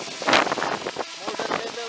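Strong wind gusts buffet a microphone near a small MINI SE drone on a test flight, producing loud, irregular rushing bursts and rumbles that swell and drop over a couple of seconds.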